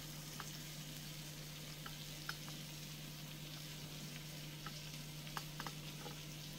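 Shrimp frying in a pan of brown butter with garlic, a soft continuous sizzle with scattered small pops and ticks, faint and steady with no voices.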